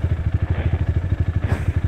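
An off-road motorcycle on a Philippine trail sputters as its engine struggles and nearly dies, a close, rough chugging of rapid low thumps that keeps an even rhythm.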